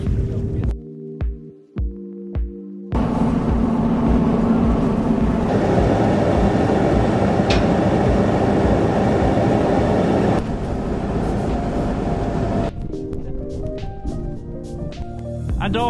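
On a Falkland Islands shore an elephant seal gives deep, throbbing, rumbling grunts, with long sustained bouts broken by short pulsing calls, loud and close.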